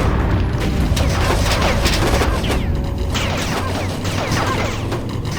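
Enemy Pterodine units blow up in the strategy game Ground Control, a dense loud run of booms and crashing blasts that overlap with clattering debris, continuous and close.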